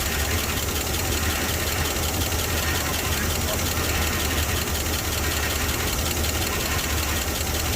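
A 1978 Oldsmobile Cutlass barn find, started after sitting about five years, runs with a dense, rough, continuous engine roar close by, steady and unbroken from start to finish.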